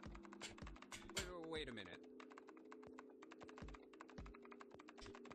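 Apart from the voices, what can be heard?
keyboard typing sound effect in video game Nine Hours, Nine Persons, Nine Doors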